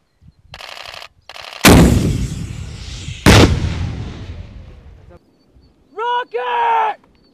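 A rocket launcher fires on a Marine live-fire range, two heavy booming blasts that roll out into long decaying rumbles, with a shouted voice coming after them.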